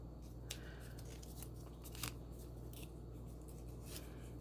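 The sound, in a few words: scissors trimming masking tape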